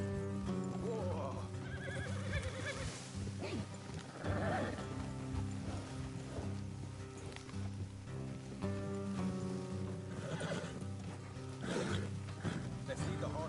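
Horses whinny and hooves clip-clop in a video game, several neighs rising over a steady clatter of footfalls, mixed with a voice talking and a tonal background score.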